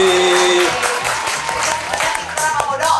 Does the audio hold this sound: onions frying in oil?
no